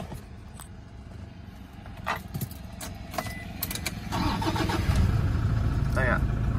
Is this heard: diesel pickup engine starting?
yes